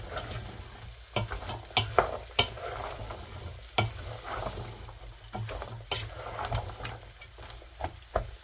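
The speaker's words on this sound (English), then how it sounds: "And in with our celery. Nice, good stir." Vegetables including celery and carrots are stirred in a hot pan for beef cassoulet, producing a gentle sizzle under repeated sharp scraping and clacking strokes of the spoon, close up and without voices.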